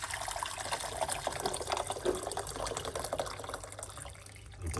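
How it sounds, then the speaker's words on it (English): Hot water poured into a kettle pot in a home kitchen, a continuous close splashing and gurgling fill that carries on steadily for several seconds, no voices. "pour some hot water"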